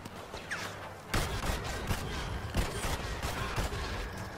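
Blaster fire in a Star Wars Battlefront battle on Endor crackles in repeated sharp shots and short bursts at moderate loudness, scattered over a busy game background.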